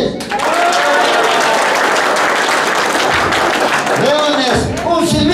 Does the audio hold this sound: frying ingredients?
no